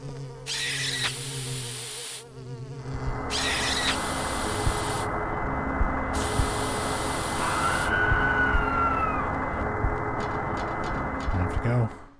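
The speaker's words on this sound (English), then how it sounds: "And you spray her with the bug spray." Bug spray hisses in Silent Hill 4 in several long, loud bursts with short gaps, over a steady droning background that continues throughout.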